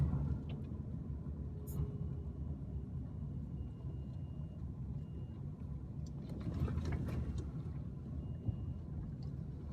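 A car driving down the 18 km Turoa Access Road from the top car park, a steady low engine and road rumble throughout with a brief louder swell midway, no talk.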